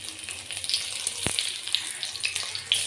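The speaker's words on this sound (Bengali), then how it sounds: "তারপরে এগুলোকে ভেজে নেব ভালোভাবে" Boiled potatoes fry in ghee and white oil in a wok, giving a steady sizzle with faint scraping and one sharp clatter near the middle.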